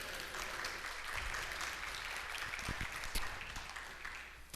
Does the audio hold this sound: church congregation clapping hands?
yes